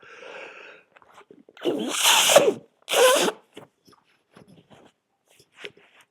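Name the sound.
sneeze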